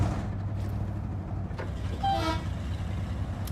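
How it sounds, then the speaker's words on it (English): A truck's train-style horn in the off-road driving game SnowRunner gives one short toot over a steady low engine rumble. "It's like a train horn."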